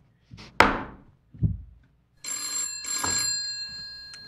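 An old-fashioned telephone rings in two bright, sustained bursts, preceded by a few dull thunks, fairly close and loud with no talking.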